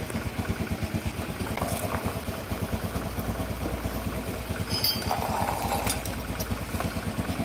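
Automatic scooter with a rough-sounding CVT running near the microphone, a steady pulsing engine chug with a coarse, uneven rattle throughout and a few brief higher clanks mixed in, no talking.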